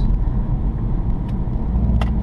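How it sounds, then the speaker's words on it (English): Loud, continuous low engine rumble from a car driving through an underpass, steady and close, with a couple of brief sharper noises. "own a car that makes a ridiculous noise when you go under an underpassage"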